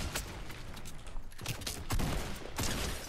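Rapid Fortnite gunfire: a dense run of overlapping shots, loud and close, with a few stronger bursts near the end.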